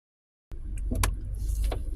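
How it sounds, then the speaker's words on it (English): A 2021 Hyundai Elantra, Limited trim, starts moving after half a second of silence: steady low road and cabin rumble, with a few faint clicks and a brief rattle over it, heard from inside the car. "driving Hyundai Elantra 2021"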